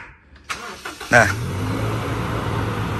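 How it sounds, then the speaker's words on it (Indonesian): A 2005 Toyota Innova upgraded to 2015 styling starts from a keyless start system: a click and brief crank, then the engine catches with a loud burst and settles into a steady idle, with a short spoken word just before. "kita juga mengaplikasikan keyless engine start stop button untuk bisa menyalakan mobil sendiri atau memanasi mobil"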